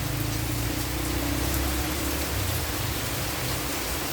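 Steady rain pours down in a dense, even hiss with no letup, close and fairly loud, with no voices.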